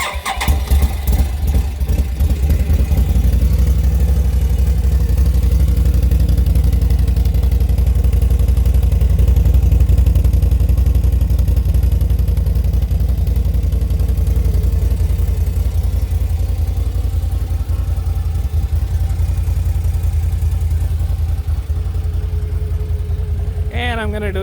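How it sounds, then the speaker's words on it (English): A 2021 Can-Am Outlander 850 XMR ATV with its stock exhaust starts up and settles into a steady, loud, close idle with a deep rumble and some mechanical clatter. "here's a startup with the stock exhaust"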